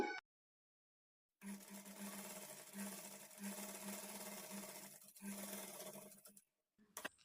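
An electric sewing machine runs a steady stitch along the edge of a blouse lining with a quarter-inch margin, a quiet continuous hum for about five seconds before it stops, with no talking.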